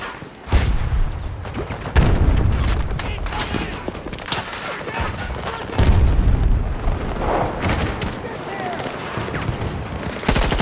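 Battlefield 2042 combat: rapid bursts of automatic gunfire and booming explosions pound almost without pause, loud and close, with shouted voices breaking through the barrage.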